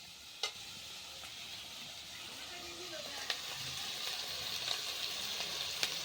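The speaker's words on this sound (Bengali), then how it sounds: "লঙ্কাটা ভালো মতন কষিয়ে নিই।" Chili paste frying in a pan for chicken curry, a steady soft sizzle close by with occasional light scrapes and taps of a stirring utensil, the hiss growing slightly louder over time.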